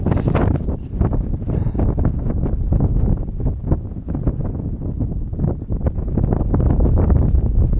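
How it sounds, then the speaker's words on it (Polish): Strong wind on a cloudy, windy December Saturday morning in Ciechów, Poland, buffeting the microphone as a loud, continuous low rumble with gusty surges throughout and no voices. "Wieje, wieje, wieje!"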